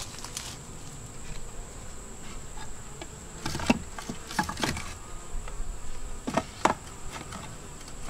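Bees buzz around an open beehive during frame work, a constant close humming drone broken by occasional soft taps and knocks.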